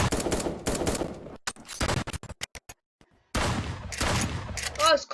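Sniper rifle gunfire from the 1v1.lol video game: loud, sharp shots in quick bursts with a short quiet gap, then more dense firing and clatter, with faint voice-like sounds mixed in.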